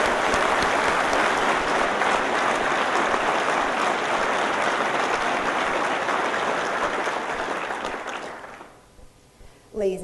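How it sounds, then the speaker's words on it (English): A crowd at a Silver Star medal ceremony gives the color guard soldiers a sustained round of applause, broad and steady for several seconds before fading out, with a few stray claps at the close. "Please join me in a round of applause for these soldiers who have helped make today's ceremony special."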